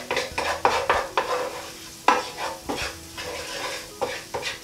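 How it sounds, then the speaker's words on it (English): Spices sauté with onion and garlic in a hot pan for an aubergine masala, giving a loud, close sizzle broken by repeated scraping stir strokes, with no voices. "just get the spices sauteing with the onions and garlic"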